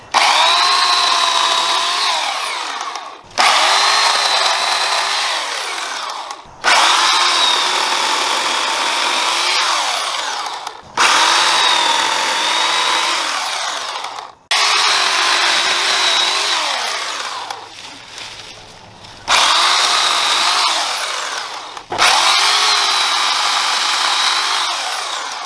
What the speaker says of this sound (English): So now I'm just going to remove the pole and use it as a chainsaw.